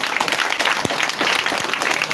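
An audience at a wash facility handover ceremony at Roman Catholic Primary School, Weima claps in a close, dense burst. Scattered sharper hand claps stand out above the steady clapping throughout.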